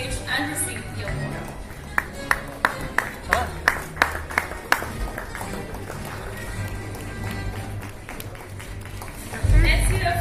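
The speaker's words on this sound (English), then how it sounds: "Huge round of applause, ladies and gentlemen" An audience at an award ceremony gives a brief round of claps, about eight sharp distinct claps spaced evenly, then fading, with an announcer speaking over the room before and after.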